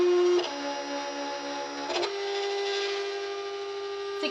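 Silhouette Cameo 4 cutting machine cutting faux leather at a slow speed, giving a steady close motor whine with tonal pitch shifts as the carriage changes direction, punctuated by brief clicks.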